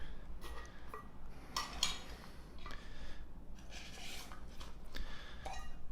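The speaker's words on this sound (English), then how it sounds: "for the cooking, in this pouch, I'm gonna use the Optimus cook set" An Optimus camping cook set with a 16-ounce, 400 ml cup and a spoon is handled up close. Scattered light metallic clinks and rubs come in quiet, irregular bursts.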